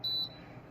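Pressing the timer reset button on an Aroeve MK01 air purifier sets off one short, high electronic beep, clean and close, followed by faint room hum.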